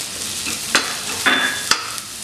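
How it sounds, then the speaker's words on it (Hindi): Carrots stirred in hot oil over lightly browned onion, a steady frying hiss broken by three distinct scrapes of a spoon against the pan, close and clear with no talk. "अब इसमें मैं गाजर डाल रही हूँ"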